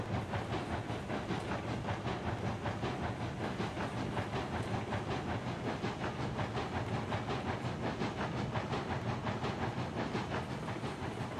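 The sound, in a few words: train rolling on rails, video game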